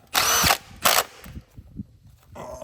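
A power tool drives bolts into a 2007 Honda CR-V 2.4-litre engine in two loud, close whirring bursts, followed by quieter clicks and handling noises.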